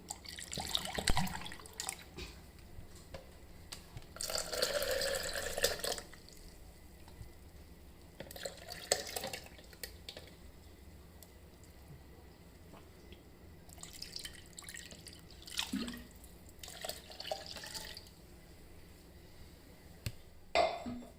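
Water poured from a glass into a mixer jar holding crushed raw mango and mint for a sharbat, heard as several intermittent splashing bursts of running liquid with quiet gaps between, no talking.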